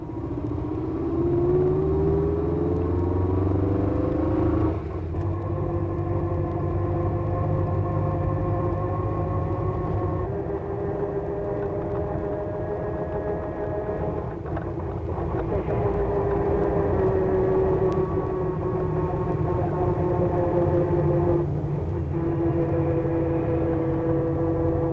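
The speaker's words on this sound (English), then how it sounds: "And now the back axle whine." A 1964-era car's worn back axle whines steadily for the full stretch, a sustained tonal drone that glides slightly in pitch over a constant rumbling road and engine bed, close and loud with no talk.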